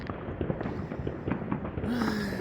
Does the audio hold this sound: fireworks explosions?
yes